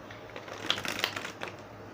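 A deck of tarot cards is shuffled close by, a few quick papery riffles and flutters over about two seconds, with no talking.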